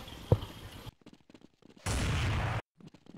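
A single gunshot in a competitive shooter match, a sharp crack followed by a short burst of loud noise, set among quiet in-game sounds and sparse footsteps.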